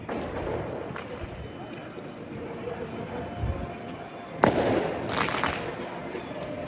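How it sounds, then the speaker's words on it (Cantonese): Fireworks go off nearby in the streets of Cairo, a sharp crack and several muffled bangs rising over a steady crowd murmur and traffic-like rumble, with people talking throughout. "呢邊好似有人放煙花"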